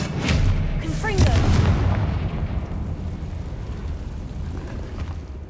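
A fiery Confringo blast goes off in Hogwarts Legacy, a heavy booming explosion with a crackling burst. A voice briefly sounds alongside it before the deep rumble slowly dies away.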